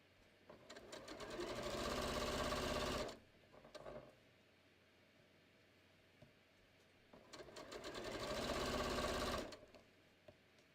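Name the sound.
sewing machine stitching diagonal seam of cushion cover strips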